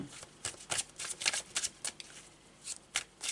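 Tarot de Marseille cards being shuffled, a run of quick, crisp riffling bursts that come in an uneven rhythm, close and moderately loud with no talking.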